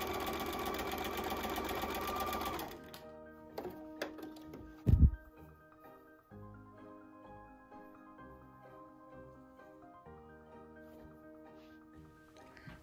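Sewing machine stitching quilt block seams for a Double Irish Chain quilt, running in a loud steady burst for about two and a half seconds, then stopping, with quieter handling clatter and a brief thump afterward.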